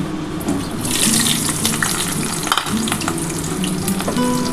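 Potatoes fry in oil left over from fried fish-roe fritters, a dense continuous sizzle and crackle with scattered pops and spatter, close and loud throughout.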